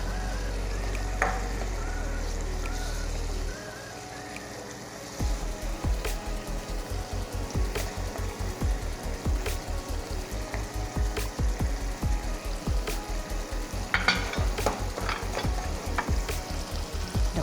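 Canned fish frying in a pan for a stir-fried thin rice noodle dish, starting with a loud steady sizzle that drops briefly, then a brisk rhythmic series of spatula scrapes and taps over continuous frying, close by with no voices.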